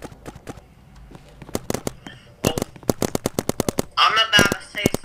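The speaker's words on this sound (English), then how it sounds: "I've got a toon gun." Rapid cartoonish gunfire from a toon gun in a video game, a fast series of sharp cracking shots in bursts, loud and close, ending in a noisy crackling blast.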